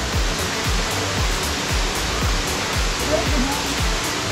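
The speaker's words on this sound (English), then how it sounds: "There it is, Rutledge Falls." Rutledge Falls, a waterfall with a swimming area at its base, roars as a steady, broadband rush of falling water, with a low rhythmic thumping underneath.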